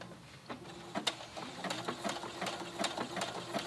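Sewing machine stitching a large buttonhole on a jogger skirt, a quiet rapid mechanical chatter with regular needle clicks and short bursts of stitching.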